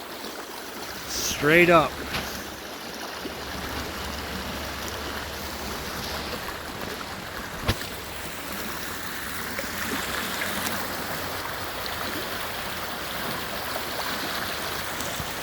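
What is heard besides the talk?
creek rapids flowing on an Illinois farm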